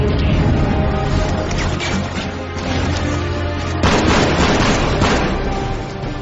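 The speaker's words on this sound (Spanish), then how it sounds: "Claro, disparos es el mensaje básico, ¿no? Sí, disparos por doquier." Rapid gunfire, booms and explosions from a ten-year-old shooting video game, loud and continuous, with a brief lull near the middle before another burst of heavy shots and blasts.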